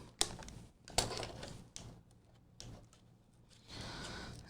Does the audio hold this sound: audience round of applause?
no